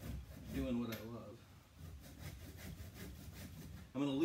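A hand saw cuts a hockey puck clamped in a vise, giving steady rasping back-and-forth strokes at close range, and a voice speaks over the start and end.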